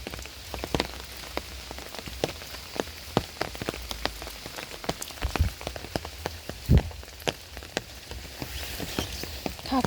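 Heavy overnight rain falling, a dense hiss of rain on surfaces with scattered louder drops and drips tapping close by, steady and without talk.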